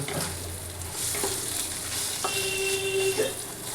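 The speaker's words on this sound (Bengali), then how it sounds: "সামান্য একটু নুন দেব, দিয়ে এটাকে আমি একটু ভেজে নেব" Chopped green chili, cashews, raisins and almonds fry with a pinch of salt in a pan for a Bengali sweet sabu pulao, giving a steady close sizzle with soft stirring scrapes and a brief tonal squeak near the end.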